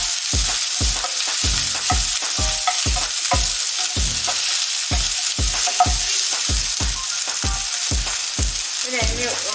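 Shallots frying in oil in a pan for Ulli theeyal, a loud continuous sizzle punctuated by steady, rhythmic spatula strokes scraping across the pan about twice a second, close and alone without voices.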